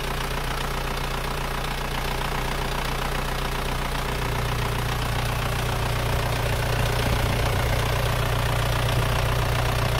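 An Isuzu Panther diesel engine with a compression leak idles after a cold morning start, a steady close rumble with a knocking clatter running continuously throughout.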